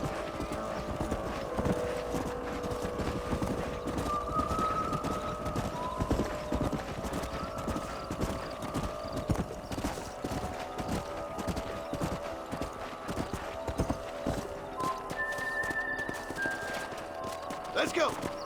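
Horse hooves clip-clop in a steady gallop in the video game Red Dead Redemption, with a horse neighing among them and voices talking over the continuous, fairly close hoofbeats.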